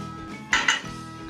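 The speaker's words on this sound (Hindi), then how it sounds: "इसको भी मिला लीजिए अच्छी तरह से" A spoon stirring kulfi mixture with crumbs, cardamom and nuts in a bowl, two quick clinks of metal against the bowl in close succession, close and clear, over a quiet background.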